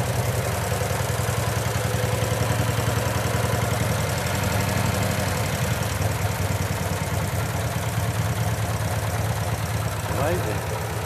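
Matchless three-wheeler engine running out of gear at a hot rod show, steady rhythmic idle with a throttle blip near the end, while a person talks over it.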